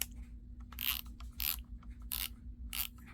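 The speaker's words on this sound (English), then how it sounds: "this is what I want you guys to hear, the ratcheting" Milwaukee M12 3/8-inch extended reach ratchet clicking in four bursts of rapid pawl ratcheting, close and clear, with short pauses between bursts over a low steady hum.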